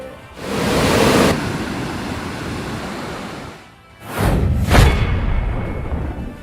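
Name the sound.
Sirimane Falls waterfall, water plunging between rocks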